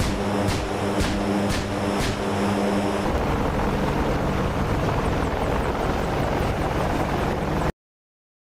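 A Chinook helicopter roars loud and steady, its rotor chop pulsing in a heavy rhythmic beat at first before settling into a dense continuous drone that cuts off abruptly near the end.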